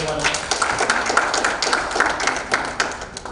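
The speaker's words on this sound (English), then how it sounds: "So let's give a round of applause to everyone." A round of applause from an audience at a summit side event on youth and human capital, dense steady clapping with crowd murmur throughout, fairly near and sustained.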